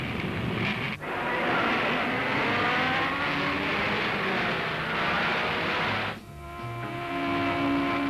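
Honda Formula 2 racing car engines roar and whine continuously at a 1966 race, pitch shifting as cars pass, with a brief dip before the noise swells again.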